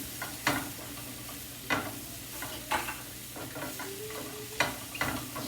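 Mushrooms and onions sizzle steadily in a pan, punctuated by about five scraping stirs of a utensil at roughly one-second intervals, close by with no voices.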